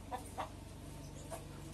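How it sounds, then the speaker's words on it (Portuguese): Hen clucking on a small rural farm, soft repeated short clucks spaced irregularly over a steady low background hum, fairly distant and faint. "Dizem que a galinha que canta é dona dos ovos."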